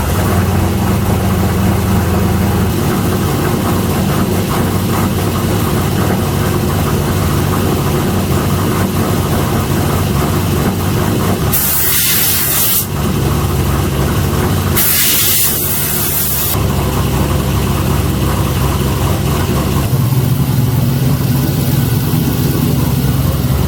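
An LC9 V8 in an LS-swapped Miata idles steadily and loud while warming up, a constant low engine drone with two brief bursts of hissing spray over it.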